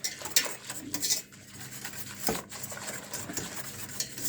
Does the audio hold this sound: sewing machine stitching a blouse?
no